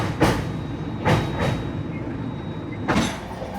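An SMVB Bengaluru to Howrah AC superfast express crossing the Penna river near the Nellore barrage, heard as a steady rumble of rolling carriages with a few sharp rhythmic wheel clacks over rail joints.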